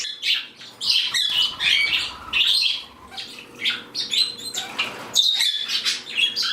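Bourke's parrots being let out among a home flock, giving bursts of bright chirps and squawks with wing flaps, close and lively, continuing without pause.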